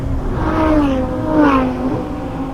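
A Lamborghini Huracán Tecnica engine revs up and down twice, rising and falling pitch with a throaty exhaust note, fairly close.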